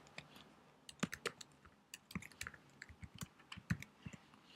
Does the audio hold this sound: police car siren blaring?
no